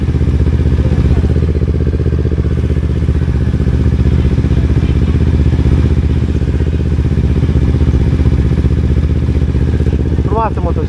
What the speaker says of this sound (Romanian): Frumoasă motocicleta, da?